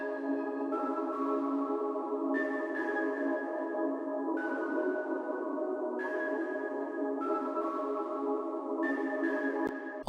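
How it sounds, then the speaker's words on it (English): A necklace bell one-shot from a trap sample kit, layered with reverb and delay, rings as sustained bright tones that step between pitches over a steady, dense bed of other beat elements, with no talking. "in this next section, I just added a bell. This one's from Bass One's Rogue one-shot kit. It's the necklace bell."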